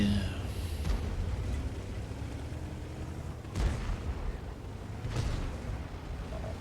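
Two or three sharp booms of tank cannon fire from a Škoda T 50 in a video game ring out over a low rumbling background, spaced a couple of seconds apart.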